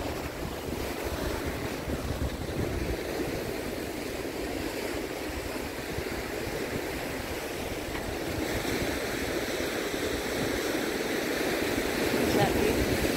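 Surf washing onto a sunny beach, a steady broadband rush of breaking waves mixed with gusting wind noise across the microphone, continuous and fairly close, gradually building slightly toward the end.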